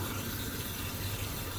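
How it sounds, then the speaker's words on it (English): A water aspirator on a lab tap pulls vacuum for a rotary evaporator, giving a steady, loud rushing hiss of running water with no break. "I got the water aspirator on for the vacuum"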